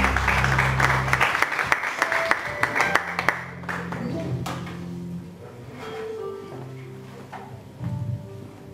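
A church congregation claps and cheers during a service, the applause dense at first, then breaking into scattered claps and fading as voices and sustained tones carry on.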